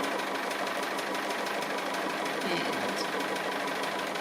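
A sewing machine stitches a tree appliqué on a quilt, giving a quiet, continuous whirring hum with a faint mechanical pulse and no pauses.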